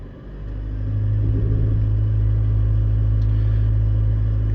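A Mitsubishi Triton with a flashing DPF warning light has its engine held at about 1500 RPM, giving a loud, steady, close engine drone that rises at the start and stays even throughout, with no talking.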